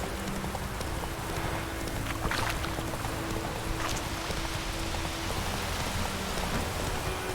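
Heavy rain pours onto a boat in The Witcher 3, a dense, steady hiss of drops drumming on the surface with a low hum beneath, loud and continuous with no talk.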